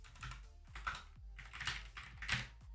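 Computer keyboard typing while writing F# code, a run of quick key clicks in bursts with brief pauses, close and fairly quiet, no talking.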